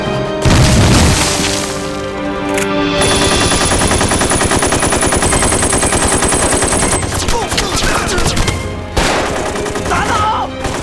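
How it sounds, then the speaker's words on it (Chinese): Sustained machine gun fire and booming explosions in a battle scene from a Chinese war film about the Yangtze River defense, loud, dense and continuous with bursts of shouting mixed into the din. "机枪！"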